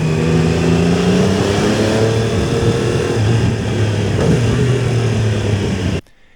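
A motorcycle engine drones steadily as the bike rides along, buried in loud rushing airstream wind noise picked up by a DJI Osmo Action 3 camera mounted on it, before cutting off abruptly.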